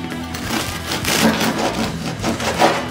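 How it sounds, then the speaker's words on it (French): Crusty homemade bread, cooled after baking, crackling and crunching as it is squeezed and handled, a close run of dry, brittle crackles lasting a few seconds. "maintenant que notre pain a refroidi, au final, on s'aperçoit que il fait un bruit très sympathique, il est très souple, la croûte est assez dure"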